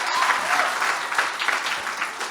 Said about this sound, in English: I think a round of applause for these guys